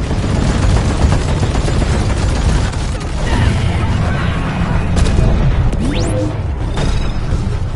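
Grenade blast and chaotic combat in Deep Rock Galactic, with dense booms, gunfire and crashing debris filling the whole stretch, loud and close, with brief voice bits mixed in.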